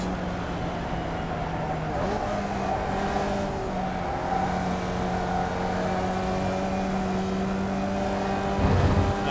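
Formula Vee race car in the iRacing sim at Lime Rock Park, its engine droning steadily and loudly in fourth gear down the front straight, with a steady pitch and no talk over it.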